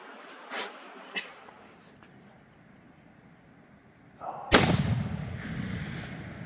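A 7mm PRC hunting rifle fires once during a sambar deer hunt, a sudden loud outdoor blast with a rolling echo that trails off, preceded by faint murmured talk.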